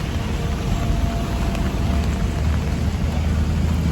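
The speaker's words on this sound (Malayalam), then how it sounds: "ഇവിടെ നല്ല മഴ പെയ്യുന്നുണ്ട്." Heavy rain pours down in a steady, dense hiss with a low rumble beneath it, continuous for the whole stretch and with no voices.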